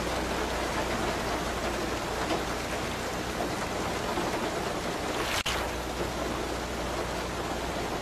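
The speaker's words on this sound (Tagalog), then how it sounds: "palalaki kasi ang patak ng ulan ngayon" Steady, dense rain hisses continuously, with one sharp click partway through and no voices.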